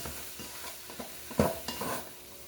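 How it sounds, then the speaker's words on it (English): Flour stirred into ham and pasta cooking in a single pot, heard as quiet scraping and shuffling strokes over a faint sizzle, with one firmer knock midway. "I got a 1/4 cup of flour, and I'm going to sprinkle that in first. And I want to stir it up"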